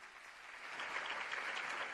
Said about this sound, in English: throwing that generosity with a huge round of applause